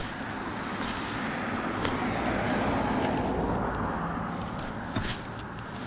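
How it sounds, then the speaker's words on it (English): Road traffic passing near a roadside metal-detecting spot, a continuous broad rumble of vehicles that swells and fades, with a few faint knocks over it. "Traffic is wicked loud."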